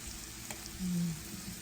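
Mushrooms frying in a pan give a steady, quiet sizzle that runs throughout, with a brief low rumble in the middle.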